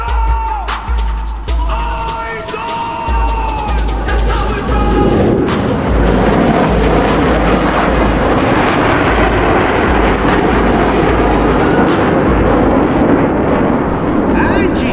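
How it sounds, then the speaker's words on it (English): An F-16 fighter jet flying a triple aileron roll at an airshow gives a loud, steady jet roar that swells and holds, with an announcer talking over it. "Now dropping it from the left, it's the F-16 in the triple aileron."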